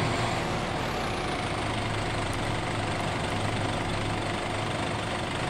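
A New Holland tractor engine idles in Farming Simulator 22, a steady low diesel rumble that stays even and continuous, with no voices over it.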